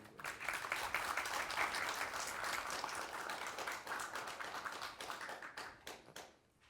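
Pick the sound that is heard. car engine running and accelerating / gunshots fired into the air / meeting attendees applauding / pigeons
meeting attendees applauding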